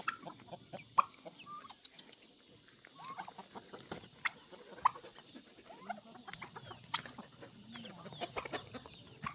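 Chickens cluck and squawk in scattered short bursts at a farm coop, soft and moderately distant, with irregular rustling in between.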